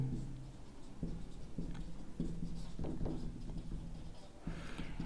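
Chalk or marker scratching across a board in a physics lecture hall, short strokes and taps in irregular bursts close by, with a low hum and faint room noise underneath.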